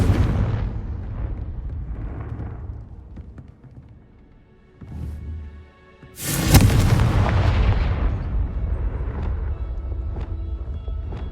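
A Confringo blasting curse in Hogwarts Legacy lands as a loud, booming explosion with a sharp crack and a long rumbling tail. A softer burst comes just before it, and game ambience continues throughout.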